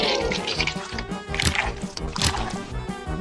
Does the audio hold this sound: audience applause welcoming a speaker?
no